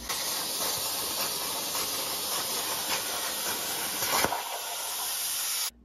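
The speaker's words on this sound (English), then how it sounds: "I then cut the gears out using my CNC plasma." A CNC plasma cutter cuts gears from steel plate, a loud, steady broadband hiss holding for several seconds before cutting off abruptly.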